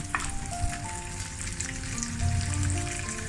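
Anchovies deep fry in hot oil for crispy fried anchovies for Indonesian nasi goreng kampung, a steady dense crackle and bubbling hiss, close and even throughout, with a faint stir partway through and no talking.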